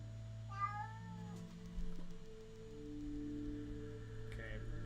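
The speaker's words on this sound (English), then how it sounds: "My cat likes to do this thing where he hides underneath the bed and meows as loud as he can" A pet cat meowing, one rising drawn-out meow near the start and a shorter cry near the end, faint and somewhat distant over a low steady hum.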